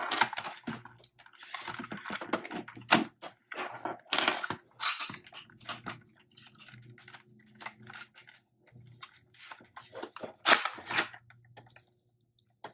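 Quick disassembly clips pulled out of a Gameface Prime foam blaster, a series of close plastic clicks, snaps and rattles in irregular bursts with quieter handling between them.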